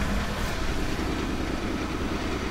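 A 1989 Buick Reatta with electrical issues idles steadily, a low continuous engine rumble holding even and close throughout with no voices.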